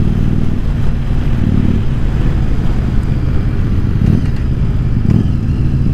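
A Yamaha Virago XV750 bobber motorcycle on a road test gives a loud, close, continuous engine drone with slight rises in revs and no talking.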